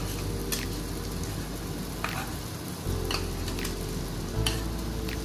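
Eggplant fries in a pan while it is stirred and mixed together with added ingredients, giving a steady, soft sizzle broken by a few short scraping strokes of the utensil, with no talking.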